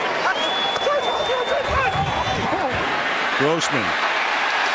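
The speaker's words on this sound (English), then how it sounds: "here comes the crowd again" Stadium crowd roaring at a 2007 NFL game between the Chicago Bears and Dallas Cowboys, a steady wash of cheering noise under a commentator's voice and a referee's whistle.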